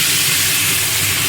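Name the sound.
water poured into hot oil while cooking pabda fish curry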